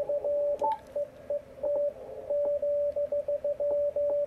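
Yaesu FTDX101D radio receiver through a 600 Hz crystal filter, a steady pure tone of Morse code keying in short and long beeps over faint background hiss.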